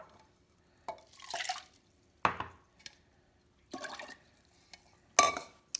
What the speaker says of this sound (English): we're gonna add water to get the excess rice from the bottom